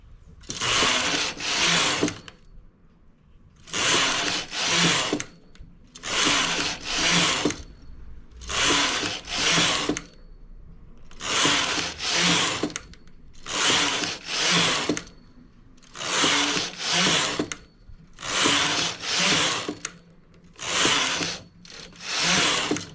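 Knitting machine carriage sliding back and forth across the needle bed in regular passes, each row a loud raspy whoosh about two seconds long, separated by short quiet gaps as the knitter works a zigzag vest.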